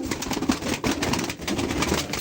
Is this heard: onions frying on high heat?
no